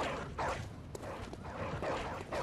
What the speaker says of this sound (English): Quit your barking. I don't like it.